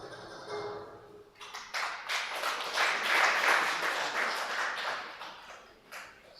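Audience clapping at a university debate championship in Uganda, a broad sustained burst of many hands that swells through the middle and tapers off, fairly close and lively, with no talk over it.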